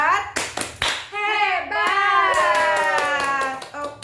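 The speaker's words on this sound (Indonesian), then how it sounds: "Kita tepuk hebat dulu untuk Ibu Risa." A group claps a rhythmic praise clap for a woman, sharp hand claps in a patterned beat mixed with voices chanting along, close and fairly loud.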